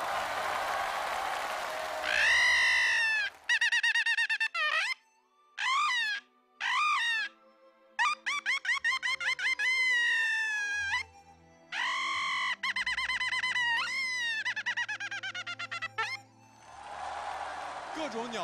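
A suona, the Chinese double-reed horn, plays 'Hundred Birds Paying Homage' at a televised gala, imitating bird calls with bright, swooping, chirping phrases broken by short pauses. It sounds loud and close, with scattered applause-like noise at the start and end.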